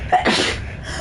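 A single short, sharp sneeze bursts out close by, a quick nasal exhale followed by faint breathy rustle, alone with no talking.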